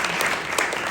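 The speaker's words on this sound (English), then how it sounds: "Clap it up then, clap it up." An audience at a literary awards evening claps steadily, a brief burst of dense hand-clapping from a room full of people, even and continuous with no voices.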